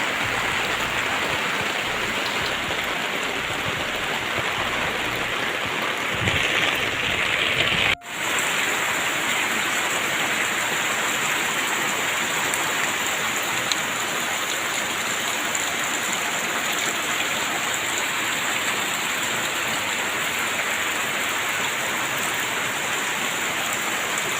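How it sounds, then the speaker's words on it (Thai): Heavy rain pours down around a flooded house in rural Thailand, a dense, steady roar of water on surfaces that runs without pause, close and loud throughout. "ตกอีกแล้วค่ะพี่น้องฝนตกอีกแล้วค่ะน้ำท่วมบ้านหมดแล้วค่ะเนี่ย"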